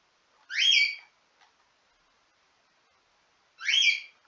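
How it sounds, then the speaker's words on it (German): A pet bird gives two loud, clear whistled calls a few seconds apart, each a rising warble close to the microphone, with near silence in between. "Mein Vogel, Digga."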